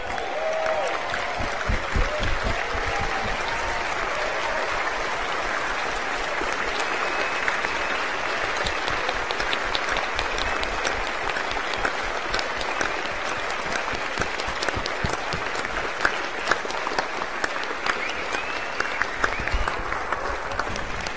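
An audience at a university graduation ceremony gives a long, sustained round of applause, a dense, even wash of many hands clapping that holds steady throughout, with no voices over it.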